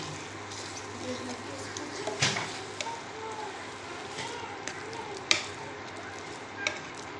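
Onions fry in a pan with a soft, low sizzle, broken by a few light knocks of stirring, while a voice talks over it.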